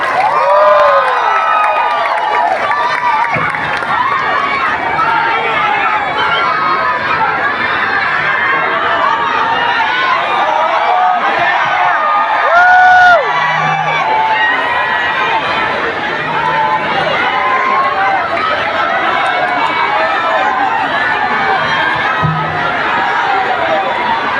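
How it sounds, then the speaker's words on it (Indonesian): Loud, sustained crowd cheering, clapping and shouting at a campaign speech for Prabowo Subianto in Pontianak, a dense roaring mass of voices and applause filling the whole stretch with occasional louder whoops. "Tepuk tangan yang meriah."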